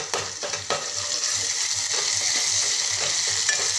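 Garlic and cumin frying with softened onion in a pan for Maharashtrian dal tadka, a steady close sizzle with repeated scraping stir strokes of a spoon roughly every half second, no voices.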